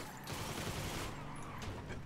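Rapid bursts of gunfire in Grand Theft Auto roleplay crackle in a dense, loud volley for about two seconds, with a sustained rumbling roar underneath.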